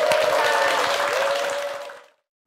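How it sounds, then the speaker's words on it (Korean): A studio audience applauds during a Korean morning television talk show, a dense burst of clapping that holds steady, then fades and ends after about two seconds. "감사 박수 부탁드립니다"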